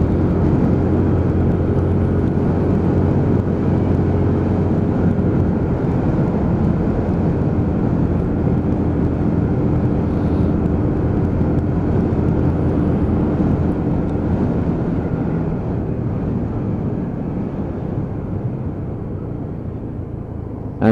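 A Lexmoto ZSB 125 motorcycle drones steadily at speed on a road, a constant close engine hum with wind rumble that eases slightly toward the end. No talking is heard.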